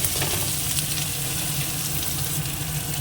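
Chopped onion and crab frying in hot oil, a loud dense close sizzle that holds steady throughout with faint stirring underneath.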